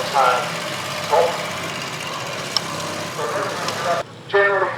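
A Matchless G3L military motorcycle's single-cylinder engine idles and thumps at an outdoor wartime vehicle show, moderately close, with someone speaking over it.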